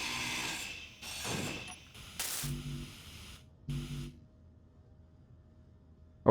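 A grinder tool cutting scrap in Space Engineers, grinding and spraying bursts of mechanical noise in several short pulses, then near silence.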